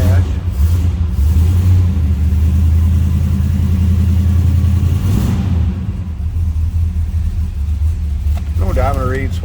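A 1967 Buick GS 400 convertible's engine idles after a cold start, with a steady deep rumble holding close and loud throughout. A voice briefly speaks near the end.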